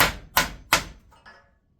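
Three loud, sharp hammer strikes on a chisel against the metal of a melted furnace, close by, followed by a couple of softer taps that fade out.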